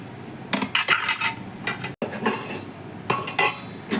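Steel plates clatter and clink against each other and a hard surface while being oiled for sago papads, in quick uneven bursts of metallic rattling with short pauses between.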